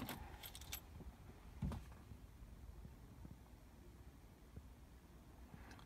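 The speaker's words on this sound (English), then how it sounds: "lock the car." Keys jangle at the start, followed by a short clunk of a car being locked with the key, then a steady low background hum to the end, with no talking.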